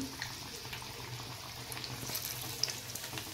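Aloo bread patties shallow-frying in oil over a medium flame, with a faint steady bubbling sizzle and a small clink partway through as one is turned over. No one speaks.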